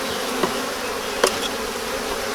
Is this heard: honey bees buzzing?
yes